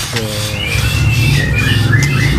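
A golden white-rumped shama sings loud and close, a run of bright rising and falling whistled phrases that go on without pause for a couple of seconds.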